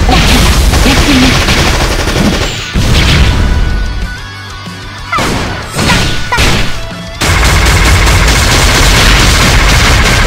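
An orbital bombardment skill in the Closers video game sets off loud dense barrages of blasts and crashing impacts, with a quieter lull partway through before the bombardment resumes at full force.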